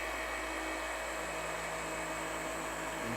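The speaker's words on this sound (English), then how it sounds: "Slow down the polisher," A car paint polisher spins at a lowered speed while detailing a classic British car, giving a steady, unbroken whirring drone with a fixed high whine, close and continuous, with no talking.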